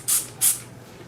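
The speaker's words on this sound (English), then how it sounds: "you can spray it to clean it off" Two short, sharp hissing bursts of cleaner spray hit a 3D-printed tattoo hand poker, close and crisp, with a brief pause between them and quiet afterward.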